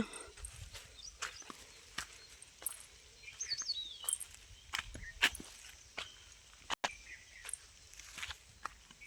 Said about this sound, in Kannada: ಈ ಥರ ಅಕ್ಕಿ ಪಕ್ಷಿಗಳ ಶಬ್ದ ಕೇಳಿಕೊಂಡು